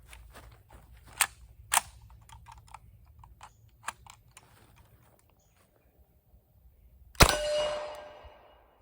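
An Uzi with a 16-inch barrel firing a subsonic round: light clicks and mechanical handling lead to one sharp, loud shot near the end, followed by a brief ringing decay.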